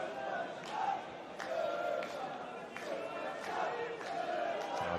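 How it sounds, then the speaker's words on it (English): A rugby crowd at a Newport versus Pontypool match sings a player's name, a broad chanting swell of voices rising and falling in waves from the distant stands. "the crowd sing his name as well"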